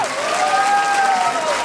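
A crowd at an anniversary event applauds a music producer: sustained, even clapping with a faint tonal whistle-like sound running over it.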